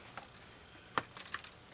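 Keys hanging in an offroad motorcycle's ignition switch jangle faintly, with a single metallic clink followed by a short cluster of light rattles close by in an otherwise quiet space.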